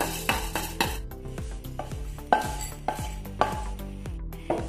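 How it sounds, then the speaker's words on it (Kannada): Kumte chillies fry in a spoonful of coconut oil in a pan, with repeated clinks and scrapes of a spoon against the metal and a soft sizzle beneath, close and steady. "ಈಗ ಕುಮಟೆ ಮೆಣಸು ಫ್ರೈ ಮಾಡುವ"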